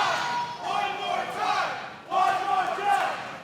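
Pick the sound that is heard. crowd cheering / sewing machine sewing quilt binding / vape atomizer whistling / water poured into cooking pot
crowd cheering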